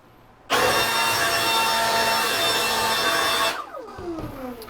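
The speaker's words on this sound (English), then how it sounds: "what we have here is a Milwaukee leaf blower" A loud, steady mechanical whoosh from a Milwaukee leaf blower kicks in abruptly, holds for about three seconds, then cuts off and winds down with a falling whine.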